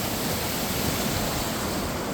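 Green Creek flowing steadily beneath a small bridge, a dense, continuous rush of water close to the microphone with no voices.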